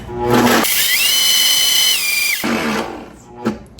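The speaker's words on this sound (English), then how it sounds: "I'm putting these inside my Vitamix by themselves, and get ready, we're going to turn these into a powder, so this will be a little loud." A Vitamix blender roars at high speed grinding freeze-dried fruit into powder, a loud steady whine that starts abruptly, holds for about two seconds, then cuts off, with quieter kitchen noise around it.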